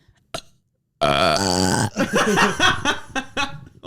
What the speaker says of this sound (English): I can burp like on command